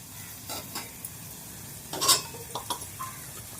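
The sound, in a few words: dried bombil fish stir-frying in spiced oil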